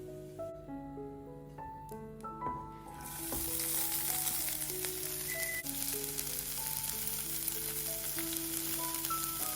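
Onion and coriander leaves hit hot oil in a pan as a tempering for dosa, breaking into a bright, steady crackling sizzle after a few seconds of quieter background music, which carries on softly beneath the frying.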